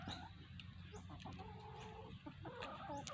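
Chickens cluck softly while pecking at yellow-flowered vegetable greens on a farm, several short clucks and murmurs overlapping at close range, with no voices.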